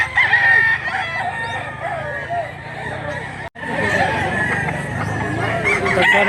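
Roosters at a rooster market in Mantalungon, Cebu crow and cluck repeatedly amid a busy crowd with murmuring voices in the background.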